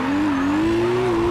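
A drifting car in the racing game CarX Drift Racing 2, its engine holding a steady, slowly rising drone with a tire squeal under it, loud and continuous without a break.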